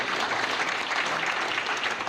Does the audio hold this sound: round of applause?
yes